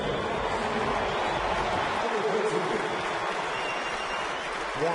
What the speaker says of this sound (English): Warm welcome by the crowd.